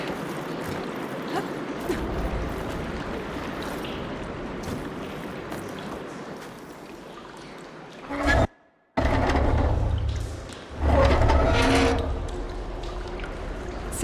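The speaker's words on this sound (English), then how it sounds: "Aloy, I can hear water in the room again." Water flowing and gurgling through a room in Horizon Forbidden West, a steady broadband wash that briefly cuts out, then surges back louder with a splashing, pouring quality.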